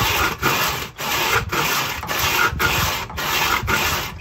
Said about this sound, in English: We're gonna get rid of some of the ash.